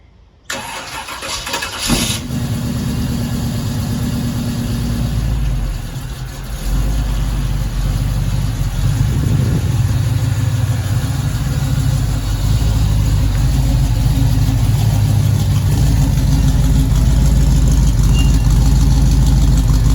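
A 1971 Chevrolet Monte Carlo V8 in a garage cranks and catches after a couple of seconds, then settles into a loud, steady, deep rumbling idle close by that continues to the end.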